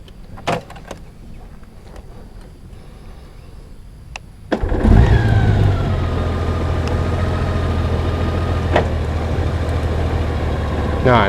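After a few seconds of quiet clicks and handling, a Honda Goldwing 1800cc motorcycle engine starts up and idles steadily, close by, with a low rumbling drone.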